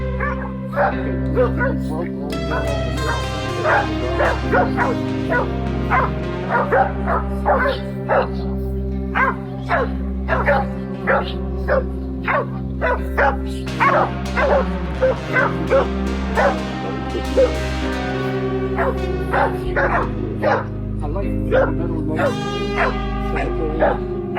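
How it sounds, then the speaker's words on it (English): Dogs bark and yelp in a rapid, overlapping frenzy while fighting a wild boar, with constant loud barking and occasional whimpers over a steady low drone. "Constantly following the spinning, crashing mess of dogs and angry wild boar."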